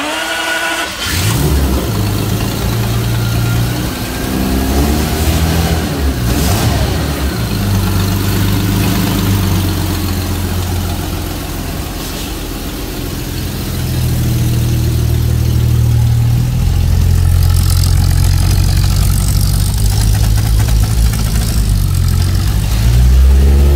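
A cold Jaguar XJS Pre-HE engine starts and idles steadily at close range, a loud continuous rumble with low harmonic tones that briefly rise and then settle, with no voices over it.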